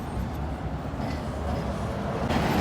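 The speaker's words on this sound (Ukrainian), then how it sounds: "Ось наш якраз трамвай." A tram pulling in at a city stop, heard as a steady low rumble of rolling wheels and rail noise with a slight rise in level near the end, close by and with no voices over it.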